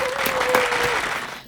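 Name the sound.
applause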